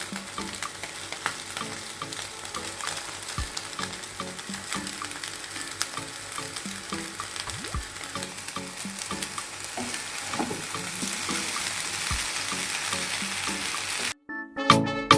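Egg chicken noodles being stir-fried in a pan, with a constant close sizzle and frequent scraping, tossing clatter that grows louder toward the end before breaking off sharply, no speech.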